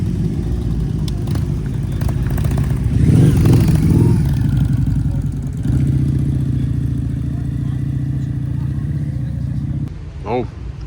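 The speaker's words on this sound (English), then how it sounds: "Right, we've got that Harley rolling out as well" A Harley-Davidson motorcycle rolls out at a classic car and bike breakfast, its engine note rising then settling into a steady mid-pitched rumble nearby, with people talking over it.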